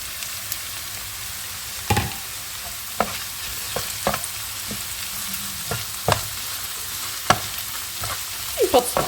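Chopped mushrooms frying with lightly softened onions in a pan for Christmas Eve uszka filling: a steady, close sizzle broken by sharp spatula scrapes every second or so.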